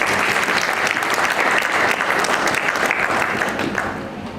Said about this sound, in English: Please clap them for that.